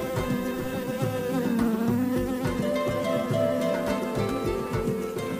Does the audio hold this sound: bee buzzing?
yes